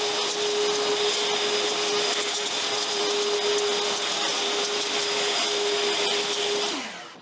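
An EGO battery leaf blower runs loud and steady for about seven seconds, a constant high electric whine over broad rushing air, then winds down as it shuts off at the end.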